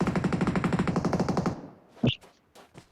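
A rapid, loud burst of automatic rifle fire in PUBG Mobile lasts about a second and a half, followed by a couple of sharper isolated shots and short echoes.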